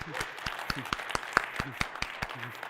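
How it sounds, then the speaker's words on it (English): Audience applause at AMD's CES 2025 keynote: a steady patter of many hands clapping for under three seconds, moderately loud, with sharp individual claps standing out and a bit of crowd murmur underneath. "Now we clap, guys."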